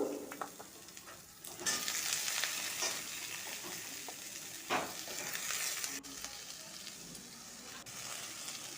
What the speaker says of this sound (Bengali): পেঁয়াজগুলোর সাথে আলুগুলো ভাজা হয়ে যাবে